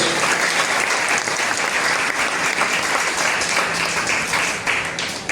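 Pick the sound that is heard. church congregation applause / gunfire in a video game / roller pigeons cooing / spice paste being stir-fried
church congregation applause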